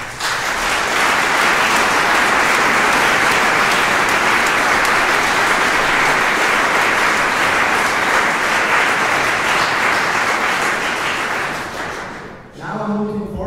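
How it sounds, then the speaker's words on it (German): Sustained audience applause fills the Festsaal in Muri at the oboe competition finals, a dense, loud wash of clapping lasting about twelve seconds before fading out. "das ist dein Applaus für dich und dein Team."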